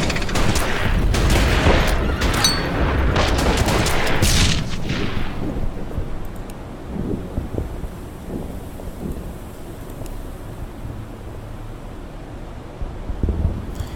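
Heavy tank cannon and gunfire from Order of Battle: Panzerkrieg, a loud, dense barrage of blasts and rumble for the first few seconds, then easing into a quieter rolling aftermath with scattered distant thumps.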